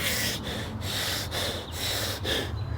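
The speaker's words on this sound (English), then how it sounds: "you're like become a chest breather" A person demonstrates shallow, stressed chest breathing with quick, audible breaths drawn in through the nose and mouth, repeated about five times in a close, loud rhythm.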